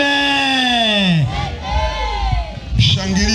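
A congregation at an outdoor gospel crusade in Mpanda, Katavi, breaking into loud, wavering high-pitched ululation with crowd noise and clapping underneath, close and energetic, following a voice.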